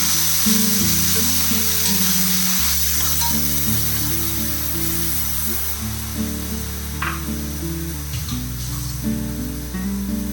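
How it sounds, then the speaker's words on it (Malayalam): Pureed tomato poured into a pan of fried shallots and garlic, giving a loud, continuous sizzle and hiss. A steady musical tone runs underneath throughout. "ഇതിൽ ഞാൻ 2 ടൊമാറ്റോ അരച്ച് വെച്ചിരിക്കുകയാണ്. അതും കൂടെ ഒഴിച്ചു കൊടുക്കുന്നു."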